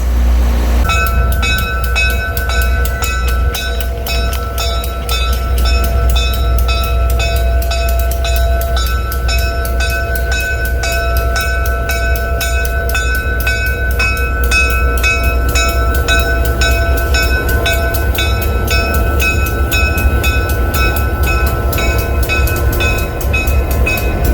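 A museum train rumbles steadily along the rails with a rhythmic metallic clatter and tonal hums, continuous and fairly loud throughout.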